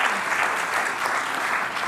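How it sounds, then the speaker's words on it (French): Dense, steady applause from an audience at a round-table event on food cooperation, many hands clapping together at close range for the full stretch with no voices on top. "Un tonnerre d'applaudissements."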